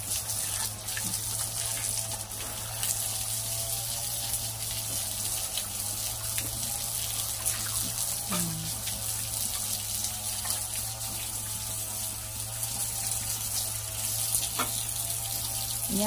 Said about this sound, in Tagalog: Ito yung mga tubig mga kababoy.